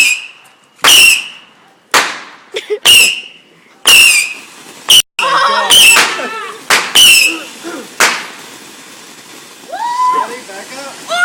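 Firecrackers set off outdoors: roughly eight sharp bangs, about one per second, some trailing a brief whistle, with people talking and reacting between the blasts.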